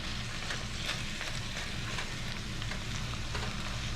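Onions caramelizing in grease in a pan give off a dense, steady sizzle and crackle that runs without a break, close and fairly loud, with no voices.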